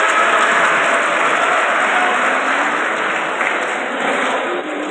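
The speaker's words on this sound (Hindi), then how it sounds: "जोरदार तालियां हो।" Strong, dense applause from a college audience at a career counselling event, a continuous loud wash of clapping with no pauses.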